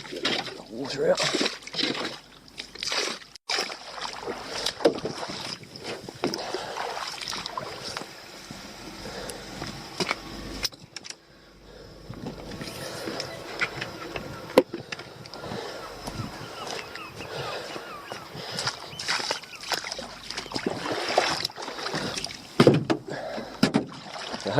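A small dinghy rowed across drizzly sea water, with steady oar strokes, sloshing and light splashes running throughout, some wind, and people talking over it.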